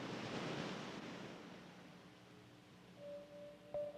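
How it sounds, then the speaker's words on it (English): Ocean waves crash and surge under fierce westerly winds, a broad rushing roar that slowly ebbs, with a faint steady tone emerging near the end. "the southern hemisphere westerlies have a chance to build into fierce winds, stirring the ocean into crashing waves"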